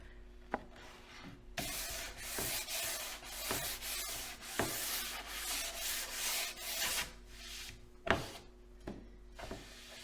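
Light, rough rubbing strokes of a lighter-grit sanding block on a wooden Halloween porch sign, close and fairly quiet, in a steady back-and-forth rhythm with a few sharper knocks between passes.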